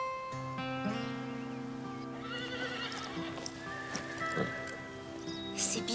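A horse whinnies and neighs loudly and close up, its long harmonic call running through most of the stretch, with hoof clip-clop and a brief high burst near the end.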